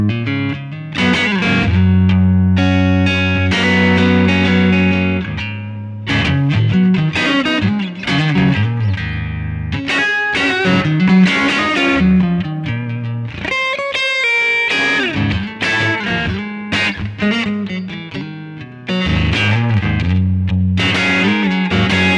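Electric guitar played through a Yamaha THR10 amp on the clean setting, master full and gain at half, strummed chords and single notes ringing out with a touch of reverb, loud and continuous with brief pauses.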